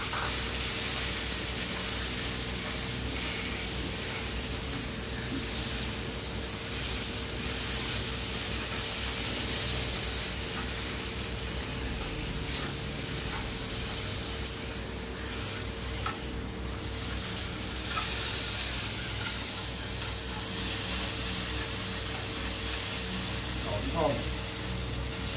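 Eggs frying in a pan for a beef and fried-egg bread meal, with a steady broadband sizzle running the whole time, close and constant, with faint background noise and no clear talk over it.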